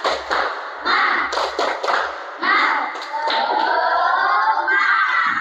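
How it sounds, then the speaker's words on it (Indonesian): A class of young schoolchildren claps a rhythmic spirit cheer in unison, bursts of close claps and thumps in a patterned beat mixed with children's chanting voices. "Tepuk semangat."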